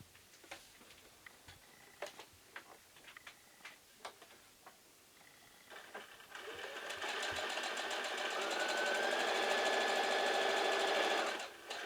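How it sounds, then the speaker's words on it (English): A sewing machine stitches a quilt block of fabric, its rapid mechanical chatter starting midway and running steady and fairly loud after a few scattered handling taps and clicks. "So I'm going to take this one over to the sewing machine and I'll be right back. Just going to sew that up real quick."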